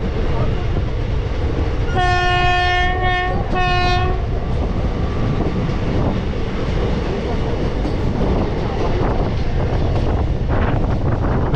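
A Haldibari–New Jalpaiguri passenger train runs at speed with a loud, steady rumble of wheels and carriages over heavy wind buffeting, while its horn sounds two close blasts early on.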